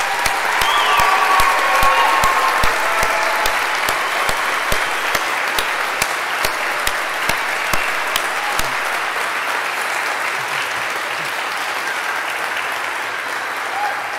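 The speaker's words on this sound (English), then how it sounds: "Let's give this group one more round of applause" Commencement audience applause for graduates at a spring graduate ceremony, a large crowd's broad clapping with sharp individual claps standing out near the front, gradually thinning into a softer patter toward the end.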